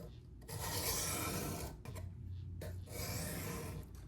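An 8Cr13MoV stainless steel pocket knife drawn across a dry 400 grit whetstone, giving steady close-up rasping strokes, two long passes separated by a short pause.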